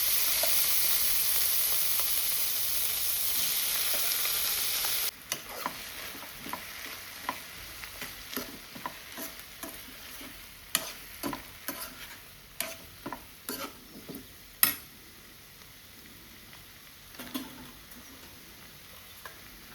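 Boiled potatoes frying with softened onions in a pan: a loud hissing burst as they go in, then a quieter sizzle punctuated by irregular spoon clicks and scrapes against the pan, close by with no talk.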